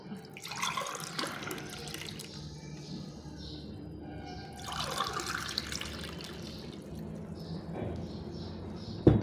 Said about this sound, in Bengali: এখন আমি এই শরবতগুলো এখানে ঢেলে দেব